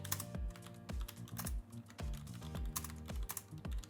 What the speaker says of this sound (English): give it one more go and see how much further we're able to get with our 60-second typing test